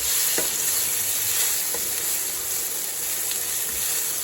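Onions fry in a pan outdoors until translucent, a loud continuous sizzling hiss with a few faint taps of a utensil and no voices.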